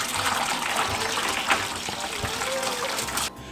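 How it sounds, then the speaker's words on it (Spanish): Hot water poured from a heating pot into an ovenproof baking tray to make a water bath for chocoflan, a steady continuous splashing gush under faint background talk, cut off abruptly near the end. "vamos a poner el agua que tenemos calentando"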